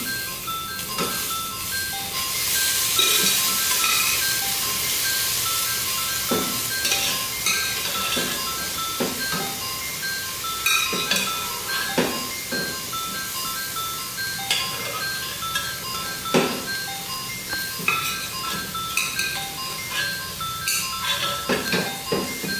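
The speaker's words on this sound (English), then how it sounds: "And to this I will add the boiled pieces of mutton." Boiled mutton pieces going into a pot of fried basmati rice for biryani: scattered clinks and scrapes of a spoon against the pot over a soft, continuous sizzle, with no one talking.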